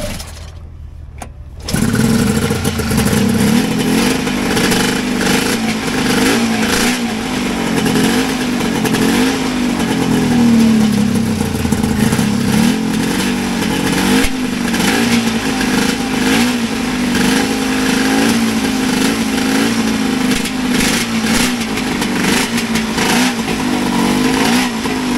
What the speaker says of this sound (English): Let's give the people a little sound of a really big triple.